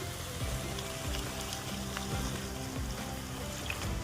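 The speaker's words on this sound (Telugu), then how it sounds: "ఇందులో నీళ్ళు వాటర్ వేసుకుంటున్నానండి" Water pours into a cooking pot holding fried dried fish in chili and turmeric, making a steady, even rushing hiss that runs unbroken for several seconds.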